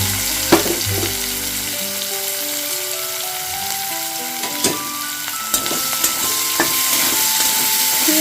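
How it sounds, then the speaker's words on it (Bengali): Chopped onions fry in hot oil with cardamom and a bay leaf, giving a steady, loud sizzle with occasional stirring knocks and scrapes, while a low hum fades out near the start. "এবারে এর মধ্যে আমি পেঁয়াজ কুচুনো দিয়ে দিলাম"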